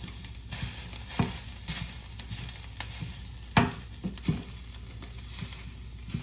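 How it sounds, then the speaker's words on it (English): Grilled burger patties being chopped up in a pan, with soft stirring scrapes and a low sizzle running throughout and a few sharper knocks of the utensil against the pan. "My mama had some patties in there. So I'm just gonna chop them up."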